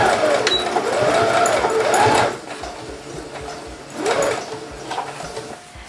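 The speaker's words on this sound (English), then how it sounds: "So then you want to start sewing. You're just doing like a normal straight stitch." A sewing machine runs a straight stitch on scrunchie fabric in close, loud whirring bursts with rhythmic needle clatter, easing briefly in the middle and resuming near the end.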